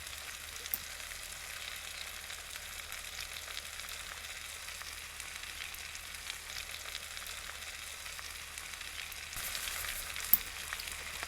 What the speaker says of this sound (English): Then I continued to let this frazzle, stirring on occasion, until the diced potatoes had a little bit of a darker crust